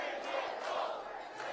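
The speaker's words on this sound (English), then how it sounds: "What a crowd. What incredible energy." A large crowd at a Pierre Poilievre rally cheers and chants, a dense, fairly distant roar with rhythmic pulses running throughout.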